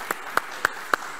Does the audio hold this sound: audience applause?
yes